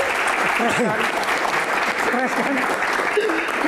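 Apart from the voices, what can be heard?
applause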